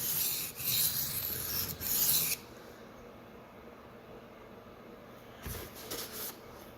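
A dull Sabatier paring knife sharpened on Shapton and Suehiro whetstones, a few close, hissing rasping strokes across the stone, then quiet, then a few softer strokes returning near the end.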